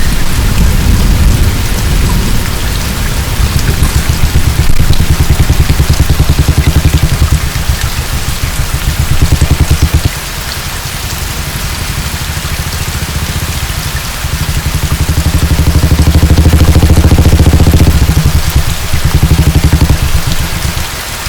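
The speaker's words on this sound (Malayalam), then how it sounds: "പെട്ടെന്നൊരു മഴയില്ലേ?" Heavy rain suddenly pours down in a loud, dense hiss with rumbles of thunder rolling underneath, building and swelling over about twenty seconds with no talking.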